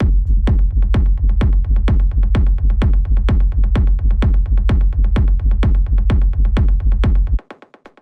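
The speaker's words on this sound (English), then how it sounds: "So this is a rumble kick." Rumbling techno kick drum in a cosmic techno loop, thumping in a steady four-on-the-floor pulse for about seven seconds with a low rolling tail under each hit, then cutting off abruptly.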